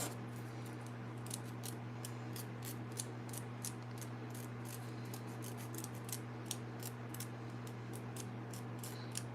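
A nail clipper trims fingernails after nail polish removal, giving a quick series of small sharp clicks, close and faint, spaced irregularly over a steady low electrical hum, with no talking.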